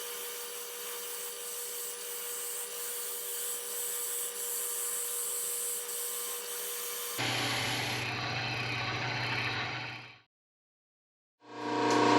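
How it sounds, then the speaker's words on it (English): Steady rasping of sandpaper rubbing back and forth on wood, close by, then a louder, coarser burst of scraping before a brief silence. "A little sanding."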